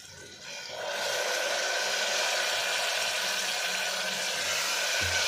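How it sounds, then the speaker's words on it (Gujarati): Water pours steadily into a pot of spine gourd (kantola) curry in a continuous rushing hiss that starts after a brief quiet moment and keeps going. "તો હવે આપણે એની અંદર પાણી ઉમેરી દઈશું."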